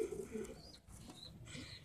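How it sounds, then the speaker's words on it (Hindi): Pigeons cooing softly at a home loft of newly acquired high flyer birds, low murmuring coos running through the whole short stretch with faint background noise. "तो ये कबूतर है"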